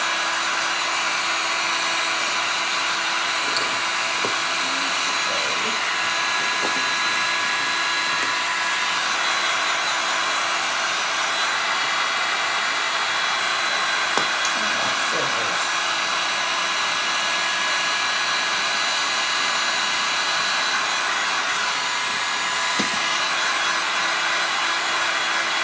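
A heat gun blows steadily and loudly on a piece of bendable wood, a constant close roar with no change in pitch and only a few faint clicks and handling noises beneath it.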